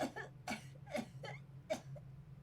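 A cleaning lady character in the video game Disco Elysium coughs in a quiet room, four or five short, raspy, wet coughs in an uneven rhythm, close and fairly soft.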